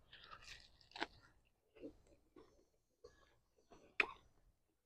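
A bite into a crunchy BLT sandwich made with brown-sugar bacon, a few soft crunching and chewing sounds close up, ending in one sharp crisp crunch, with no talking.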